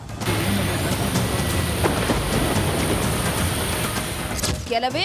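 Dense, heavy rain with hail and strong wind roars continuously over Bengaluru with a deep rumbling undertone, and near the end a voice briefly breaks through.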